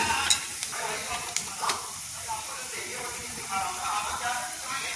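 Nuts frying in ghee, a continuous close hiss and crackle with a few sharp spoon taps against the pan and light stirring.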